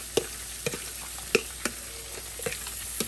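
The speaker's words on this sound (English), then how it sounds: "we're gonna add our corn to fry our corn." Corn fries in olive oil in a pan, giving a steady sizzle with a few sharp clicks and scrapes from stirring, heard close up with no talking.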